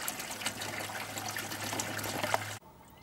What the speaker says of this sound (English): It's just dripping away a little bit.